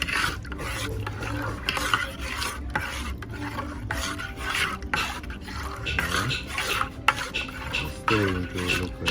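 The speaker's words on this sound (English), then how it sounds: "Stir everything like that." A spoon scrapes and rubs through Jamaican rice and peas in a pot, giving close, continuous stirring with gritty rasping strokes and faint sizzling. No one talks.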